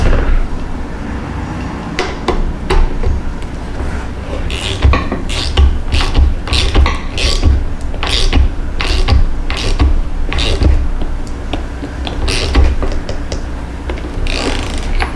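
A wrench ratchets a nut down onto a bolt on a custom truck project, giving a steady series of sharp metallic clicks at close range with brief pauses.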